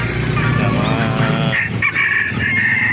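Sebright bantam chickens at a busy animal market, with rooster crowing and clucking close by over a constant crowd murmur.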